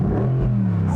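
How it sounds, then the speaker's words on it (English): A 2020 Mercedes-AMG GT R Roadster engine idles with a steady low rumble with the top down, heard close and continuous with no talking. "you can hear that engine even more clearly with the top down"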